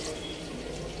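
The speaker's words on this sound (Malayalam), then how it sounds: "ഇതേപോലത്തെ 2 cups വെള്ളമാണ് ഇതിലേക്ക് ഒഴിക്കുന്നത്." Water is poured from a cup into rice in a pressure cooker for Malabar chicken biryani, a brief, continuous splashing rush heard up close.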